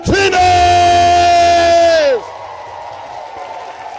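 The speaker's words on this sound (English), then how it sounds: "Somebody make some noise for Juan Martinez!" A loud crowd yells and whoops in a long sustained cheer, then drops off abruptly to a quieter background murmur.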